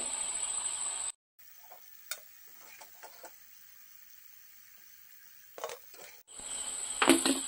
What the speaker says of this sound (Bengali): আমি বাকিগুলো এভাবে ভেজে নিচ্ছি।